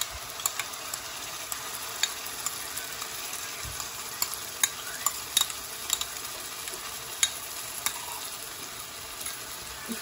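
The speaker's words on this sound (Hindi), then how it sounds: "हम प्याज फ्राई कर रहे हैं, प्याज थोड़ा डार्क ब्राउन होगा तो हम डालेंगे लहसुन पेस्ट।" Onions frying with garlic paste in a karahi for black pepper chicken karahi, a steady close sizzle with scattered clicks and stirring scrapes of a utensil throughout, no talking.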